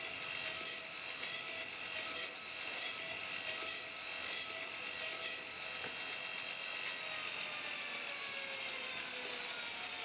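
Belt grinder with a surface grinder attachment and a fine-grit belt grinding a blade, giving a steady hissing abrasive rush with faint rhythmic pulses, continuous and moderately quiet, with no voices.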